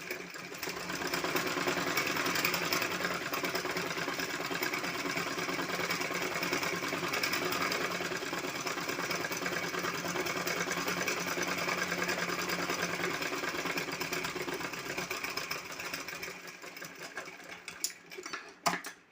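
Sewing machine stitching a reused plastic shopping bag, a steady fast mechanical whirr running continuously for most of the stretch before slowing and stopping near the end, with no talk.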